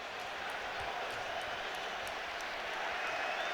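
A large crowd of Hull City Tigers supporters in the top tier of a stand at Manchester City's Etihad Stadium roars steadily after a goal, a broad, even wash of cheering with no break.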